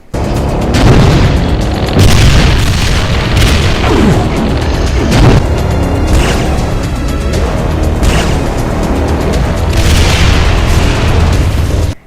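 Mancubus variant explosion bombs in a Doom mod video game, a rapid series of loud booming blasts roughly every second or two, with crackling bursts and lingering rumble between them.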